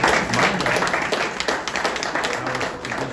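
Audience at a regional faith and justice conference on taxation clapping by hand, a dense, fairly close round of applause that holds steady and then thins slightly toward the end.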